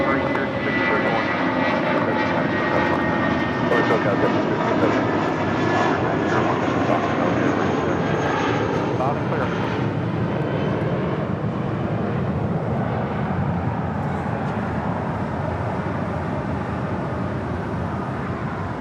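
DHL cargo plane at LAX, a steady loud jet engine rumble holding throughout while people talk over it.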